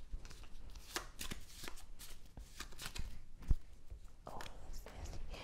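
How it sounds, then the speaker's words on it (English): Board game cards are shuffled back into a deck in quick, riffling and tapping bursts, close and fairly quiet with a steady irregular rhythm. "I'm going to shuffle these back in now"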